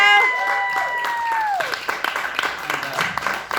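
Audience applause at an independent film festival, claps building after a sustained tone fades, with people talking over the clapping.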